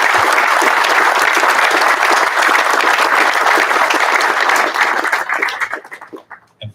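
Sustained, dense audience applause at a U.S. Army Corps of Engineers Walla Walla District change of command ceremony, loud and steady for several seconds before thinning into scattered claps.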